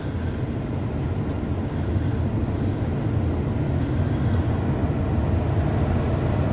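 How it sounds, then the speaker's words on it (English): A 2004 Mercury Grand Marquis blower motor runs at full speed, a steady, even broadband whoosh of rushing air that holds constant throughout. "Got full blower motor now."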